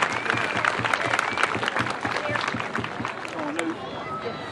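Crowd applause for board members and coaches at a youth baseball league gathering, steady clapping from many people, fairly distant and sustained, with some cheering and background chatter mixed in.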